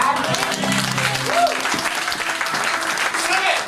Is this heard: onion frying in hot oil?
no